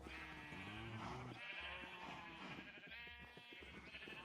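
Sheep bleat in the game Minecraft, with several wavering bleats layered over a dense, continuous bed of game sound and background music, steady and fairly full throughout.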